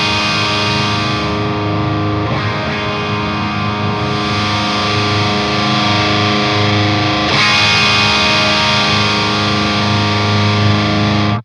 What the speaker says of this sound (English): for these amp in a box style distortion pedals